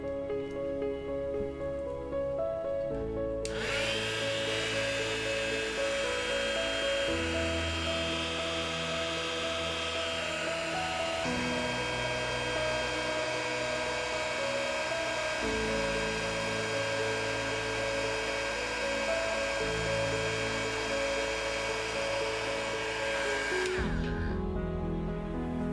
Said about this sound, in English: so we'll heat shrink this.